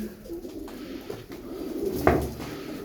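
Soft cooing of Turkish performing tumbler pigeons amid outdoor background noise, with a louder bird call near the end.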